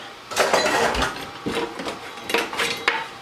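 A whisk lifted out of a bowl of hot lemon lime spread mixture, producing several close metallic clinks and taps against the bowl rim in quick irregular succession.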